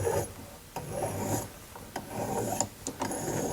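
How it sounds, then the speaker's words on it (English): A hand file rasps in steady back-and-forth strokes, cutting a 45-degree bevel on a bezel around a nephrite jade stone at a jeweller's bench. The scraping runs close and continuous with short pauses between passes. "So now I'm gonna keep filing the 45-degree."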